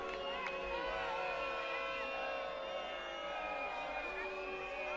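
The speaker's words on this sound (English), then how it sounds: "Probably difficult to discuss anything out there right now with the crowd making their feelings very clearly felt." A stadium crowd at the 2011 WCBU women's ultimate final between Canada and USA roars continuously in protest over a disputed call, a dense sustained wall of voices with a commentator talking over it.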